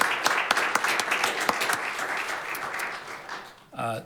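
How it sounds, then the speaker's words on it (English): Applause at a city council meeting, a sustained round of clapping from the room for an honoree, fairly loud and even, ending with a brief voice at the close. "Please join me in a round of applause for Mr. Lusitano"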